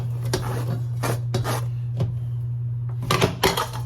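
Food drops into a pan in a hotel-room kitchen with several close clanks and scrapes of metal against metal, a few sharp knocks near the end and a steady low hum underneath.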